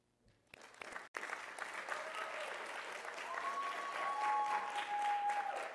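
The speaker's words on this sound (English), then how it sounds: "You please honor them with your applause." Applause from a graduation audience builds quickly and holds steady, with many hands clapping at moderate distance for several seconds in an indoor ceremony.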